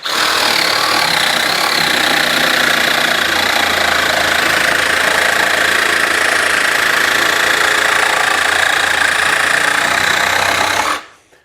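A Ryobi barrel grip jigsaw cuts at full speed with a steady, loud, buzzing reciprocating drone that holds without a break for about eleven seconds, then stops abruptly.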